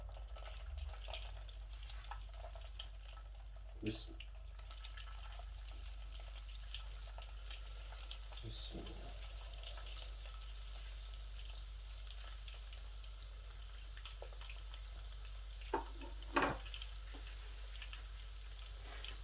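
Chicken wing sticks fry in hot oil in a home kitchen, a soft, steady sizzle with occasional sharper crackles and splashes as pieces go in, heard alone without talk.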